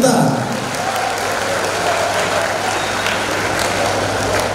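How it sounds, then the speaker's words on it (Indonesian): An audience applauds the speaker at a Semarang digital-literacy community event, a sustained, even roar of clapping from a full room, steady from start to finish. "lagi berikan tepuk tangan yang meriah pada pemateri kita"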